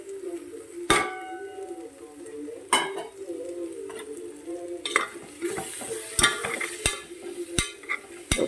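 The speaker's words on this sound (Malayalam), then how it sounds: "1 ടീസ്പൂൺ കൊറിയാണ്ടർ പൗഡർ, അല്പം കുരുമുളക് പൊടിയുണ്ട്, കുറച്ച് മഞ്ഞൾപ്പൊടി. ഇത്രയും ചേർത്ത് നമുക്കൊന്ന് ഫ്രൈ ചെയ്തെടുക്കാം." Coriander powder, black pepper and turmeric fry in a pan for Kerala-style kadala curry, giving a low sizzle broken by sharp spoon clinks and scrapes against the metal pan, close and without speech.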